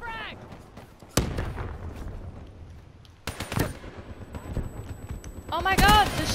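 Gunfire and explosions in the Black Ops 3 team deathmatch video game: sharp bursts and loud blasts at intervals, mixed with in-game radio chatter and a voice.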